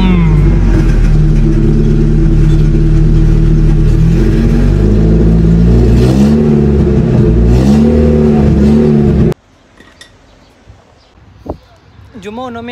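A car partway through a cut-out exhaust modification revs hard and close for about nine seconds, its engine note climbing and falling between blips, then cuts off abruptly and leaves quiet background noise.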